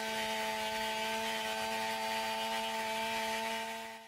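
A chainsaw cutting a roof rafter to vent a fire gives a steady, loud, high-pitched engine whine held at constant speed, tapering off at the end, with no talk.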